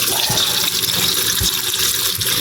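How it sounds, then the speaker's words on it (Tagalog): Running water pours steadily over raw beef ears being rinsed before boiling for sisig, a continuous close splashing wash with no talk. "Hugasan po muna natin mabuti."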